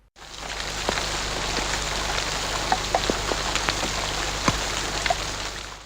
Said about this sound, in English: I heard rain falling. Yes, that is rain.